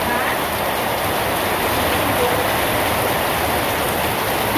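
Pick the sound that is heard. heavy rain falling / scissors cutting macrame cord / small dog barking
heavy rain falling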